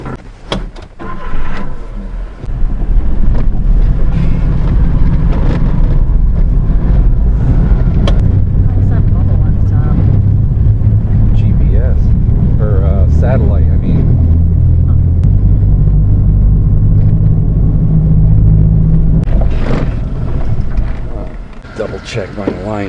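A Suzuki Carry mini dump truck drives along with a low engine rumble that builds and holds steady, close inside the cab, with people talking throughout.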